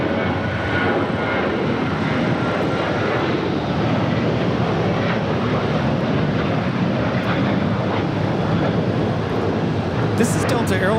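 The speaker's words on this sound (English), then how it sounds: "This is Delta Airlines 986 taking off to Austin on a 737-800" A Delta Airlines Boeing 737-800 taking off at LAX, a loud, steady jet engine roar held throughout like a close, sustained rumble with wind noise over it.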